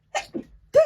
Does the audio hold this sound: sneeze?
yes